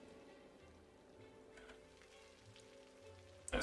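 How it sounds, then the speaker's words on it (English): Simulated rain falls over a city in the Cities: Skylines video game, a soft continuous patter at low volume with no talk. "That's too much rain."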